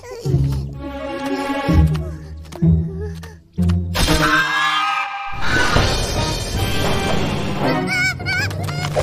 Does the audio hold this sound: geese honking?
yes